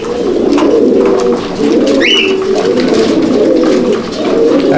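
Fancy pigeons in a loft in Howrah, soft throaty cooing repeating in loose overlapping phrases close by, with a brief higher chirp in the middle.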